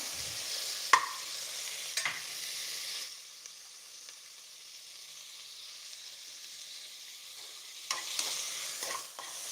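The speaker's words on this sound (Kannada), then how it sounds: "ಒಂದು ಸ್ವಲ್ಪ ಬಾಡಿಸ್ಕೋಬೇಕು ಟೊಮೆಟೊ" Tomatoes sauté in a pan for amaranth stem soup, a soft continuous sizzle broken by a few spatula scrapes and stirs at the start and again near the end.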